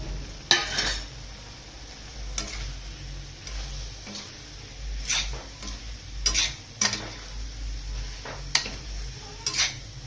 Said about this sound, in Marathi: आता याच्यात हे तळलेले बोंबील टाकून द्यायचे.